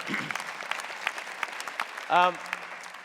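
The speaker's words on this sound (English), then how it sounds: "Let's give them another round of applause." Steady applause from an audience, continuous clapping throughout with a short voiced sound briefly rising above it.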